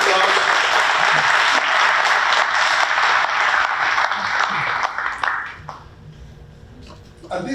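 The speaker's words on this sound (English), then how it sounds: "Let's give them a big round of applause." Audience applause for school board members at a district meeting, a full crowd clapping loudly that thins out and fades toward the end, leaving a quiet room.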